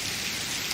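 Steady rain falling on a surface in a TV drama scene, a dense continuous hiss of drops heard on its own, fairly loud and close with no voices.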